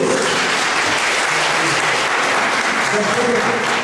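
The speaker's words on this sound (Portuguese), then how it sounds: "Uma salva de palmas para o Senhor Jesus." A congregation at a church service claps in sustained, dense applause that fills the room at a steady level throughout.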